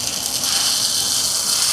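Dosa batter hitting a hot pan in a Jaffna home kitchen, a loud, steady bright hiss of sizzling that holds evenly for under two seconds.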